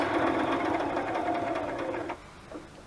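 Sewing machine stitching through the pages of a handmade nature journal, a steady close whirring run for about two seconds that stops abruptly, followed by a faint brief clack.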